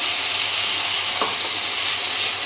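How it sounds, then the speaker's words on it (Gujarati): Ginger and chili paste for south Indian upma fries in a pan over vegetables, giving a steady, close sizzle with one brief stirring scrape partway through. "હવે આપણે આ આદુ અને મરચાંની પેસ્ટ બનાવી લેશું એ નાખીશું"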